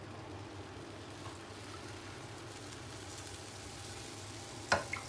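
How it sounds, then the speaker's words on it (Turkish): Cold syrup poured over hot kalburabastı dessert straight from the oven gives a soft, steady sizzle at close range, with one brief louder clink near the end. "sıcak tatlıya fırından çıkar çıkmaz soğuk şerbetimi döküyorum"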